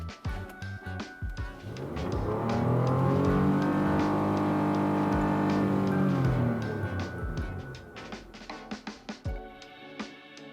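Inside a Lexus RX, the engine climbs steadily in a smooth rev to around 6,000 RPM, holds a sustained rising whine, then falls back to idle, with faint clicks and cabin movement at either end.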